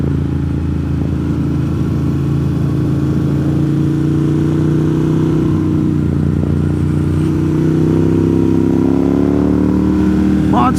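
A 2009 Ducati Monster motorcycle with under 9,000 miles rides along a mountain road near Franklin, North Carolina, its engine droning steadily and loud from up close, with wind rush and slight revving shifts throughout.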